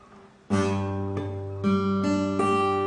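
A strummed acoustic guitar chord rings out, followed by several repeated strums; the badly fretted fourth string sounds dull and buzzy rather than ringing cleanly.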